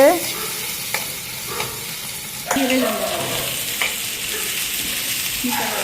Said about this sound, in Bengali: লবণ দিয়ে একটু নাড়াচাড়া করতে হবে।